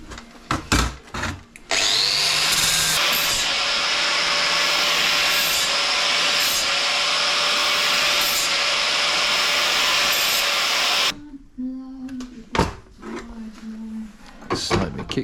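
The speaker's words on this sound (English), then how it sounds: "Let's just deburr it first, eh?" A metal part is deburred with a power tool, a loud continuous grinding whine lasting about nine seconds after a few handling knocks. It then cuts off abruptly, followed by clatter and handling noises in a workshop.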